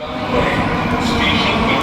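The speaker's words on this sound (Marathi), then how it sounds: "बघा ट्रेन आली आहे" A Mumbai Metro Line 3 underground train rumbles loudly and continuously nearby, a dense roar of wheels and motors filling the space.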